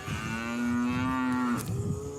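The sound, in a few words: calves at a cattle roping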